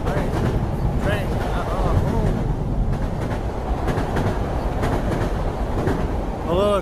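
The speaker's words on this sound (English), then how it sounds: "Oh, here comes the train." A train rolls across a New York City bridge under repair on temporary posts, a steady loud rumble and rattle of wheels and cars that goes on unbroken.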